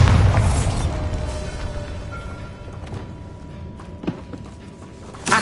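Bombarda spell explosion in Hogwarts Legacy: a deep booming blast at the start that rumbles and fades, followed by scattered debris clatter and a few small pops.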